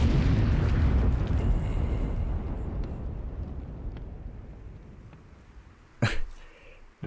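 An enemy soldier in Metal Gear Solid 3: Subsistence blows up as he dies. The deep rumbling explosion is loud at first, decays slowly over several seconds, and is followed by a couple of short, sharp pops.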